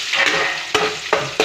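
Onions and fried potatoes are stirred in a hot pan: a steady sizzle of frying with a few sharp scraping strokes of the spoon, up close, no voices.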